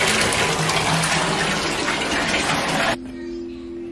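Tap water gushes steadily into a small cup for rinsing, loud and close, then cuts off abruptly, leaving a faint hum.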